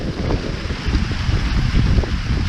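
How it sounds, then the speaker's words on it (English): Strong wind from a severe storm front roars and buffets steadily on a front porch in Alabama, with rumbling gusts battering the microphone and no voices. "Now there are still gusts, as you can see."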